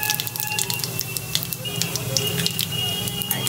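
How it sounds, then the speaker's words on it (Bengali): Whole spices (black cumin, coriander, fennel and radhuni) crackle in hot oil for a mixed vegetable curry, a steady close sizzle with sharp scattered pops. "এই ফোড়নটা দিয়ে দিলাম।"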